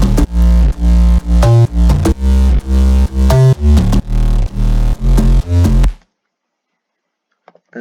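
Future house beat with a gritty stereo bass layered against a mono bass, pumping in loud, steady rhythmic pulses for about six seconds before cutting to near silence.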